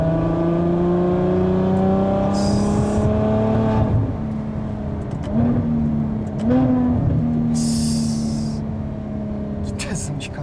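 A Ferrari F12 Berlinetta cruising through streets late at night, its engine droning with rising and falling tones as it shifts and accelerates, steady and close from inside the car.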